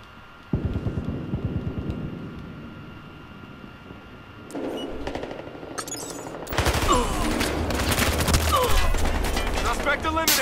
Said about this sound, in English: I was trying to shoot somebody else